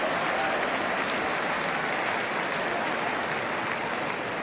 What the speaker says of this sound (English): Applause for both the pass and the attempt to collect.